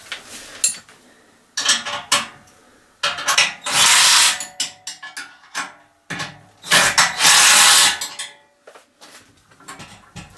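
A 17mm socket spanner ratchets a bolt tight while assembling a 20 tonne hydraulic press, loud bursts of rapid clicking in several runs separated by short pauses and metallic handling knocks.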